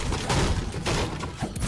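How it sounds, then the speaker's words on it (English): Impulse grenades go off in a video game, a dense rumbling wash of blasts and crackling bursts that stays loud and continuous across the short stretch, with no talk over it. "Ooh, impulse grenades."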